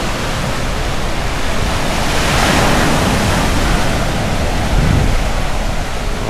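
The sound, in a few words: ocean waves surf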